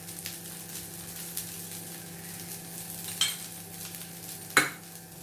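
Oil is poured over a Mumbai-style masala dosa on a hot pan, giving a soft continuous sizzle and frying hiss with two sharp crackling bursts near the end.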